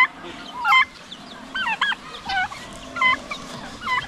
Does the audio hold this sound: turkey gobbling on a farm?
yes